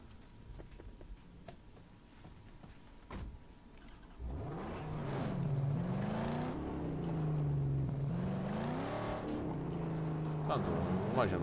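A car in the video game Mad Max idles quietly, then its engine revs up and holds a rising, wavering drone that swells and eases at close range, with voices talking over it.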